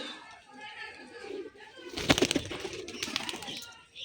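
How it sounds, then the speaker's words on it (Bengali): A golding pigeon, a breed of domestic pigeon, coos in short soft calls against an open-air background, with a louder burst of rustling and fluttering partway through and voices faintly in the scene. "দেখতে পাচ্ছ গাইজ এটা গোল্ডিং পায়রা আছে, 7 ঘন্টা উড়ে বলছে।"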